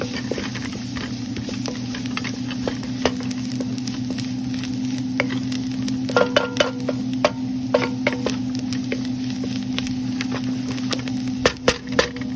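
Flour cooks in a new pot as a roux for broccoli cheddar soup, a soft continuous sizzle with scattered clicks and scrapes of stirring, close and steady without voices.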